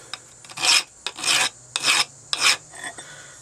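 Hand file rasping across an untreated parent steel bar in a workshop, four distinct back-and-forth strokes in an even rhythm, each a harsh, gritty scrape, close and loud, with short pauses between.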